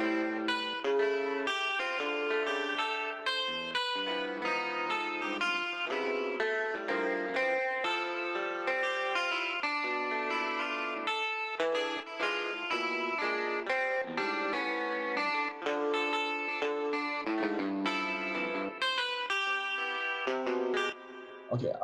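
A synthesizer plays back a melody taken from a piano roll, with bright, buzzy notes in a continuous run of changing pitches and chords for about twenty seconds.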